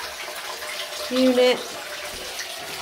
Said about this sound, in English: Right side tap running fine. Left tap also running fine.